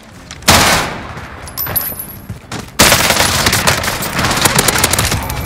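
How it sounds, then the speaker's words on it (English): Video game gunfire: loud bursts of rapid automatic shots, the first at about half a second, then a sustained, dense volley that runs to the end, close and dominant with almost no speech. "I'm taking fire!"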